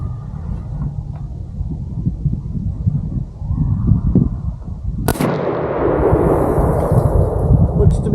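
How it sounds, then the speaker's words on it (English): A single loud Bear Creek Arsenal .450 Bushmaster rifle shot cracks out around five seconds in, its boom trailing off over steady outdoor wind and background rumble. "Fire in the hole. All right, first shot."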